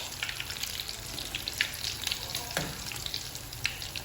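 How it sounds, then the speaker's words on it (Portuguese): Cassava fritters fry in hot oil, giving a steady close sizzle with scattered small pops and crackles that continue throughout. "Aí eu vou fritar pouco mesmo, acho que vai ser só 2 pra cada"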